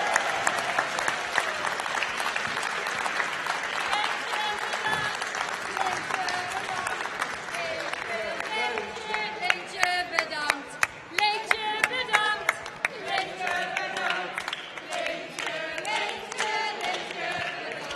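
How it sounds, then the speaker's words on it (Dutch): A large audience claps and cheers in sustained, loud applause at a farewell celebration for a retiring radio figure, with voices shouting and singing among the clapping throughout. "Geef hem nog één keer een gigantisch applaus."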